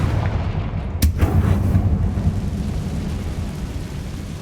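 A fire-spell explosion from the video game Hogwarts Legacy: a single sharp, loud blast bursts out, followed by a rumbling, decaying boom that fades into a low ambient drone.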